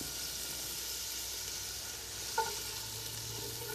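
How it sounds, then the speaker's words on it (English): An onion base simmering on medium heat in a pan, a soft, steady bubbling sizzle close by with one brief clink partway through. "we just want to simmer them to where they're limp and starting to get real clear"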